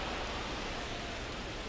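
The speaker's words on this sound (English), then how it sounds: "This rain is not letting up." Steady rain pours over a baseball stadium in the video game MLB The Show 25, a dense, even hiss with no break and no voices.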